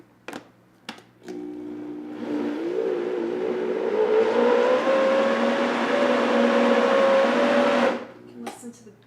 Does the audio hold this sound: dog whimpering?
no